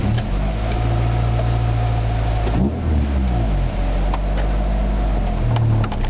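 A 1993 Honda Civic Si VTEC hatchback with a naturally aspirated D16Z6 engine, heard from inside the cabin, pulls hard through the revs with loud, steady engine drone, a brief dip around a gear change, then climbs again.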